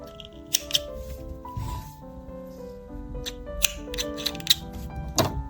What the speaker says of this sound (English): cut the tails